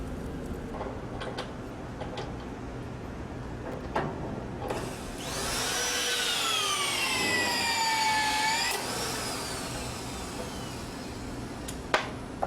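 A twist-off TC bolt on steel framing being tensioned by a power wrench, a faint whir that swells into a loud sustained whining grind for several seconds, then cuts off abruptly as the spline snaps, with light clicks around it.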